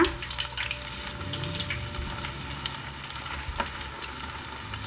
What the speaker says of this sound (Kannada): ನಾನು ದೊಡ್ಡ ದೊಡ್ಡ ಪೀಸ್ಗಳನ್ನು ಫ್ರೈ ಮಾಡ್ಕೋತೀನಿ ಇದನ್ನು ಟರ್ನ್ ಮಾಡ್ಕೊಳ್ಳೋಣ